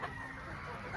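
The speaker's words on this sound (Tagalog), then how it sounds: "Gandang manok oh." A brief, soft clucking from a chicken, close by and alone, lasting only a moment.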